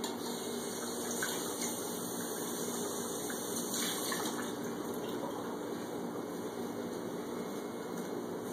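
Tap water runs steadily into a kitchen sink while dishes are washed up, a continuous close gushing stream with faint clinks, no talking.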